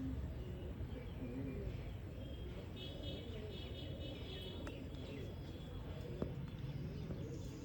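Pigeons at a breeders' sale coo softly in the background over a steady low rumble, with faint distant traffic and a few scattered clicks.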